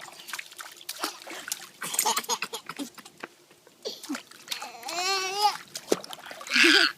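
Water splashes onto dogs outdoors on hot bricks, scattered wet splatters alongside a dog's snorts and a child's excited babbling and squeals.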